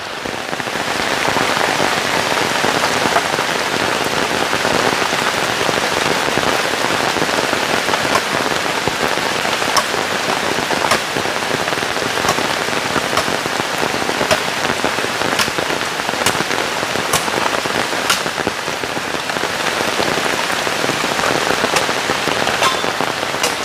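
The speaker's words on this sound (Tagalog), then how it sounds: "malakas yung ulan mga kabayan" Heavy rain pours steadily onto surfaces in a forest setting, a loud, dense hiss with scattered sharp drop impacts, continuous and unbroken for the whole stretch with no voices.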